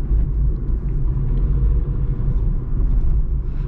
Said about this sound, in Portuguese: Acho que é um bom lugar para passar com o carro nesse teste noturno